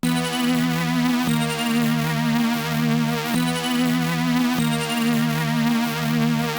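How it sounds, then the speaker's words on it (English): A distorted lead synth plays two notes alternating in a steady repeating pattern, bright and buzzy with rich overtones, loud and alone without voices. "So starting off, I have this like lead synth sound that sounds like this."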